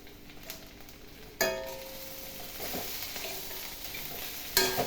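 Drumstick leaves with curry leaves, chana dal, sesame and mint sautéing in a pan for chutney, a soft sizzle with stirring scrapes and two sharp clanks of a utensil against the pan.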